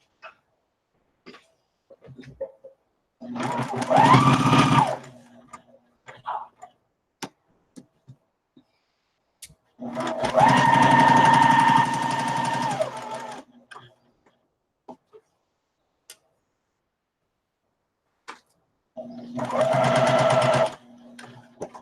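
A sewing machine chain-sews quilt pieces in three separate runs of steady mechanical whirring, each lasting a few seconds and separated by silence, with small clicks and handling noises in between.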